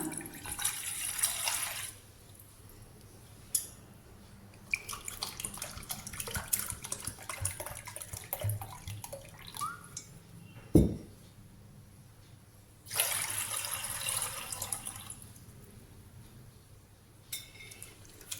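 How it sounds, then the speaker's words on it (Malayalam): Two cups of water poured into a saucepan for orange tea make splashy pouring bursts at the start and again later, with softer trickling and a sharp clink from the pan in between. "ഒരു സോസ് പാനിലേക്ക് ഞാൻ രണ്ട് കപ്പ് വെള്ളം ഒഴിച്ചു കൊടുക്കുന്നുണ്ട്"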